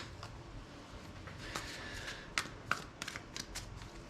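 A deck of psychic oracle cards shuffled by hand, soft papery riffling with several crisp flicks and snaps in quick succession, close and fairly quiet, with no talking.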